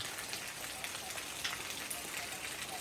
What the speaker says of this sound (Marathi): 1 नोव्हेंबरला कसा पाऊस पडतो बघा.